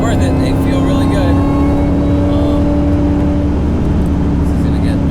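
2003 Mustang Cobra track car, its V8 engine idling and droning steadily up close with a low rumble and faint whine, while someone talks over it.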